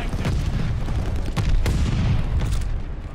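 Gunfire in the Call of Duty Vanguard video game, a dense run of booming shots and blasts that spreads across most of the stretch and drowns everything else.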